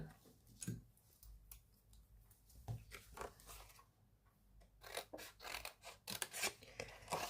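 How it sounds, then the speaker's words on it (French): Scissors cutting purple sticker paper up close, a quiet series of crisp snips and clicks in irregular bursts. "Et on va faire la découpe"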